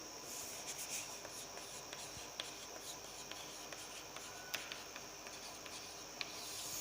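Faint rubbing and scratching of a marker or chalk on a board during a chemistry lesson, steady and quiet with a few small taps, and no talking.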